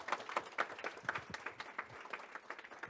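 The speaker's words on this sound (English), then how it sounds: "Clap it up for week 2, I guess." A small class claps unevenly at the start of a week-two session, distinct individual claps in a loose, sparse rhythm, fairly close.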